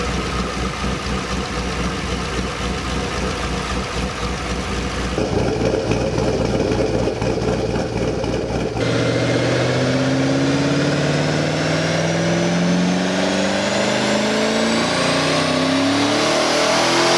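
An AGP twin-turbo fifth-generation Chevrolet Camaro engine revs loud and close, first with a rough, pulsing roar. It then climbs in a long rising sweep as it gathers speed, with no talk over it.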